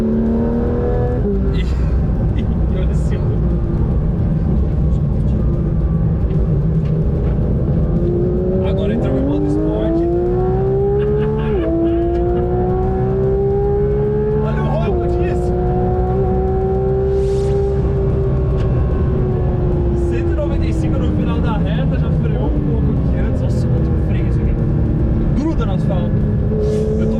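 A Porsche 911 GT3 RS engine roars loud and close while driving, its pitch climbing and falling through rising sweeps as it revs between shifts, with a person talking over it throughout.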